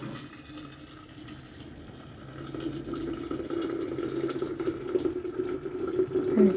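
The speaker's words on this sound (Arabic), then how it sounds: "دابا نكبو على الماء طايب" Boiled water poured from a kettle or pot into a container while making a cough remedy, a steady near splashing pour that grows fuller and louder over several seconds, with no talking.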